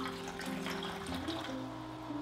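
Water pours steadily and softly into containers of alkaline drinking water, with a continuous trickling stream and rising fill tones; faint and close, with no talk.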